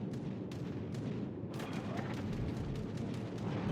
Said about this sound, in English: Here come the skip bombs.